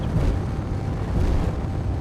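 A ship blowing up in the strategy game Homeworld: Deserts of Kharak, a brief rumbling explosion with a low booming roar that fills the short moment without talk.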